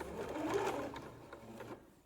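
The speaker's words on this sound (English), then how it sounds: "you have to do backstitch where you start" A sewing machine runs a short backstitch on a t-shirt being upcycled into a bralette, giving a faint, brief mechanical whirring stitch that trails off at the end.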